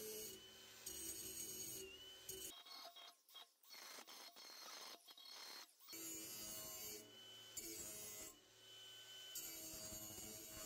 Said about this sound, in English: now I flip the blade over and we sharpen the other side.